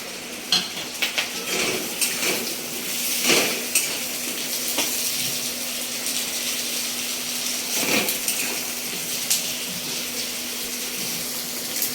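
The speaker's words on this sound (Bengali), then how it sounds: "এইবারে আলুগুলো এই মধ্যে দিয়ে দিচ্ছি।" Potatoes go into a pan with fried bata fish, giving a steady hiss of frying with clinks of a utensil against the pan as they are stirred, fairly close and with no voices.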